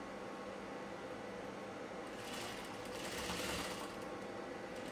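A sewing machine runs steadily stitching blouse fabric, a continuous faint whirring hum that grows slightly louder partway through, with no talking.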